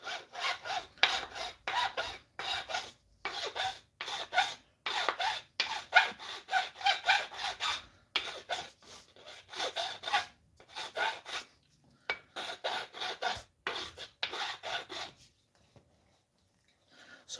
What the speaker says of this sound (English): So right now, I am hand filing the top of this hilt